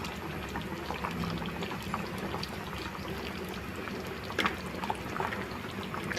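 Boche fish stew (chepala pulusu) simmering in a pot, a soft, steady bubbling with scattered faint pops throughout, quiet and close, no talking.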